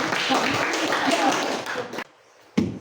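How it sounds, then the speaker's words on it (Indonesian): Applause from an audience at a school learning-innovation presentation event, a dense patter of clapping that runs for about two seconds, then stops abruptly, with a short burst returning at the end. "Kasih aplaus."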